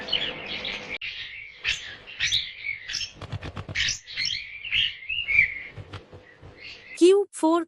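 A parrot calling with bright chirps and whistled notes in quick bursts, fairly close, ending in a couple of sharp rising shrieks, with some speech faintly mixed in.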